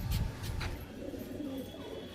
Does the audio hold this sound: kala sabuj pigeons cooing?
yes